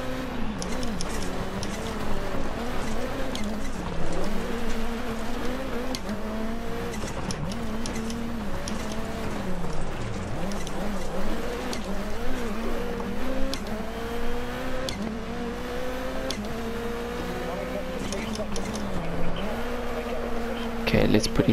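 Rally car in the Dirt Rally 2.0 racing game driving its joker lap, engine whining and revving up and down through gear changes, loud and continuous, with a voice talking faintly underneath.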